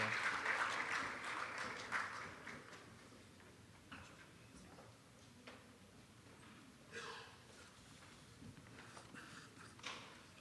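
Applause at a closing ceremony: a burst of clapping at the start that quickly dies away, followed by quieter room noise with scattered claps, footsteps and faint murmuring.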